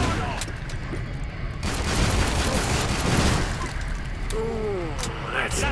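A grenade explodes in the video game Killing Floor 2: a loud, broad blast that rolls into a sustained roar of gunfire and booms, while a player talks over the chaos.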